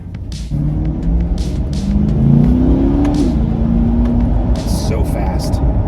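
A 2021 Chevrolet Corvette C8 Stingray accelerates hard, its engine note climbing in pitch and dropping sharply at a quick gear change before rising again, loud and close, with a voice talking over it.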